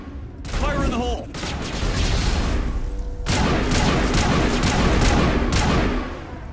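Grenade blast and gunfire in the Mass Effect 1 video game: a brief voice opens, then loud, dense bursts of shots and booms roll on almost without a break.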